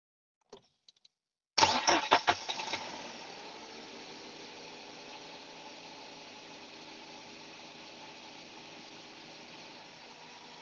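A car engine under diagnosis for an air leak is cranked and catches after a brief stutter of starter pulses, then settles into a steady, fairly quiet idle that runs on alone.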